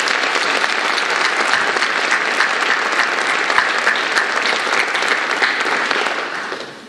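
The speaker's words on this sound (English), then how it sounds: "if we could give them a round of applause" Sustained audience applause fills a National Honor Society induction and awards ceremony hall, steady and dense for several seconds before fading at the end, with no talk over it.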